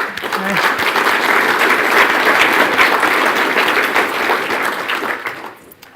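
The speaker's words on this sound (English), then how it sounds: "probably owe them a round of applause as well" Audience applause thanking event sponsors at an opening session, a steady dense clatter of many hands that holds for several seconds, then thins and fades out near the end.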